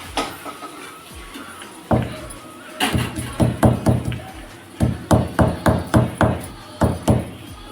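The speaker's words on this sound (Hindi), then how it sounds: "हम लोग मसाला कूट लेते हैं।" Spices are pounded by hand for a chicken dish, making sharp thumping knocks that start singly and then come in quick, uneven bursts of several strikes, close and loud.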